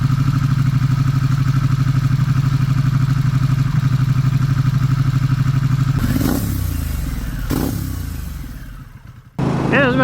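A heavy adventure motorcycle engine while riding, a loud steady drone that shifts pitch as it changes gear, with a brief drop near the end before it picks up again.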